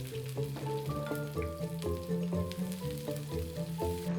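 Adobo sizzles in a pan as vinegar, sugar, Knorr liquid seasoning and Knorr chicken cubes go in over lowered heat, a steady frying hiss under loud background music.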